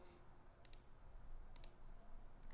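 Two quiet double clicks from a computer mouse, spaced about a second apart, in a near-silent room.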